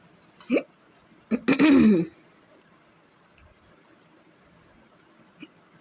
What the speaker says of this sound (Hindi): हिचकी आ रही है